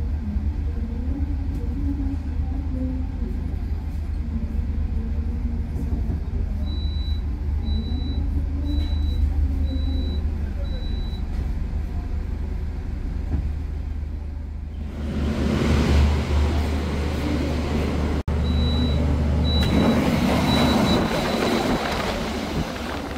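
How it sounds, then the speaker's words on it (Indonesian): A cement freight train rumbles past near an Indonesian railway line, a low steady roar that swells sharply about two-thirds through into a louder rush of wheels and wagons, with faint high whistle-like tones appearing intermittently. "Ada kereta semen tuh."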